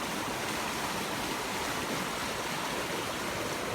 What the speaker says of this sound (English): But still a deluge coming in here because it's coming from over here.